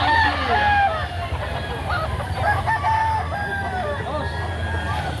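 A rooster crows repeatedly among clucking chickens at a chicken market in Lipa City, Batangas, with a steady low rumble of background noise throughout.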